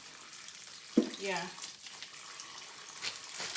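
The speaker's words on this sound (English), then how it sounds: "rinse all the 6 package of the spinach off." Tap water runs while frozen spinach is rinsed in a kitchen sink, a soft continuous hiss with a brief knock, partly under a short spoken word.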